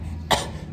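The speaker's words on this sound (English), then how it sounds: "Got the worst cough." One short, sharp cough from a sick young person during a holiday trip, close and abrupt over faint room noise.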